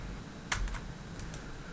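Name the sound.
computer mouse clicking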